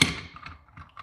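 Bolt sliding into a Winchester Model 1911 rifle, a sharp metallic clack at the start followed by a few faint light clicks and scrapes, close and brief, with no talking.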